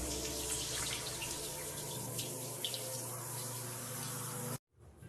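Water runs steadily from a tap during a morning bath, an even close splashing flow that cuts off abruptly near the end.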